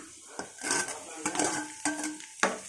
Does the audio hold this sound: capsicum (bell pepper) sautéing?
yes